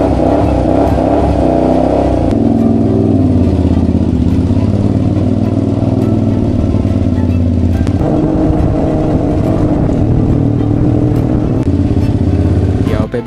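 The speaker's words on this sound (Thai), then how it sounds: "ทุกคนฟังเสียงสตาร์ทรถเด้อ" A Triumph Bobber and a Honda Street 400 motorcycle engine run loud and close, a thick low rumble idling steadily with bursts of revving and a few sharp shifts in pitch across the stretch.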